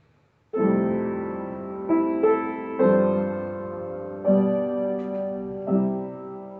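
A IV-V-I full cadence played as sustained chords, likely on a keyboard: three main chord changes, each struck and held with a few inner notes moving, clear and close with no talking.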